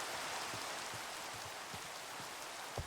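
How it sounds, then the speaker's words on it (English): Rain in a modded sandbox video game falls as a steady hiss of raindrops, with soft low patters scattered throughout. It stays quiet and continuous, with no talking. "Oh, it's raining."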